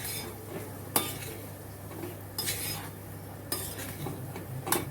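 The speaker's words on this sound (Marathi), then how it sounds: "आता मी याच्यातच आपण एक वाटी रवा मस्त असा भाजून घेणार आहोत छान असा मिडियम गॅसवर आपल्याला भाजायचा आहे" Semolina roasts in ghee in a pan over medium heat as it is stirred, with a low hiss under it and a scrape or clink of the spoon every second or so.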